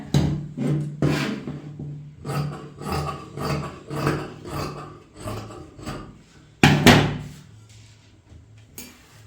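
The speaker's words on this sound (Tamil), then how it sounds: "இந்த துணியை நான் இது வரைக்கும் கட் பண்ணி விடுறேன்" Scissors cut through kurti fabric in a steady series of close, rasping snips, with one sharper, louder cut near the end.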